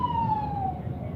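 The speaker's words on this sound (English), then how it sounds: "I think that ambulance is turning." An ambulance siren wails on a Perth street, its tone sliding steadily downward as it passes and turns, loud over the rumble of nearby traffic.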